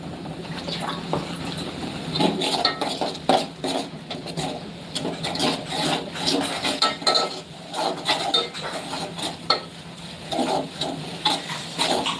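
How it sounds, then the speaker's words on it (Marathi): Spice masala being sautéed in oil in a pan for a village-style mackerel curry, with repeated clattering and scraping of a utensil against the pan over a low frying hiss, no voices. "आपल्याला एकदम असा मसाला तेल सोडेपर्यंत आपल्याला परतून घ्यायचं आहे"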